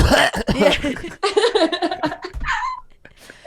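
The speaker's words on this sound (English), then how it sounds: "let me just get rid of this phlegm. Once I get rid of this cough" A voice talks briefly, then breaks into several harsh, throaty coughs and a clearing of the throat, close to the microphone.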